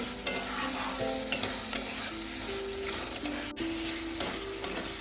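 Fried potatoes are sautéed in a pan for Bengali-style dhokar dalna: a steady close sizzle runs throughout, with occasional spatula scrapes and taps on the pan and no voices.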